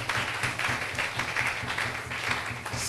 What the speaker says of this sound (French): Oh, applaudissez un peu le Seigneur.